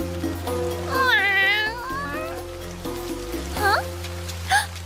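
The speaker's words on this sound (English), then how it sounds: "found a stray cat drenched in rain and shivering" A drenched stray cat meows repeatedly in heavy rain, with a long drawn-out cry followed by two shorter ones. The calls sound close and clear over a steady tonal background.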